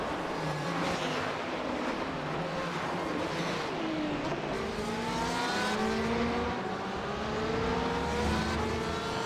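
In iRacing, a GT race car circles the Monza track, its engine roaring loud and close, rising through the revs and shifting gears repeatedly, with tire noise and other cars blending into a continuous racing roar.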